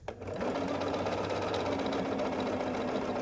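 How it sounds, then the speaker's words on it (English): Sewing machine stitching a quilt block along its diagonal, a steady, even mechanical whir that starts after a brief click and runs continuously and close with no pauses. "I'm just going to sew then along this diagonal here"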